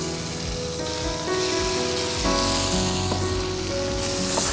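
Butter melts into oil over low heat before chicken goes in for lemon garlic chicken, making a steady, gentle sizzle close by, with sustained musical tones playing underneath the whole time.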